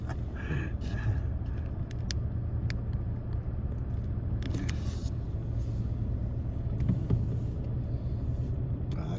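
Steady road traffic rumble heard from inside a car driving toward the US 101 freeway near Los Angeles, a continuous low engine and tire drone with faint passing sounds and no talk.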